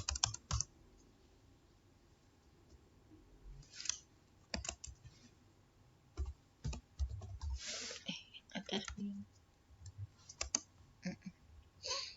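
A computer keyboard clicks in uneven bursts of keystrokes, with pauses between them, as a receipt is typed in Microsoft Word; the sound is quiet and close.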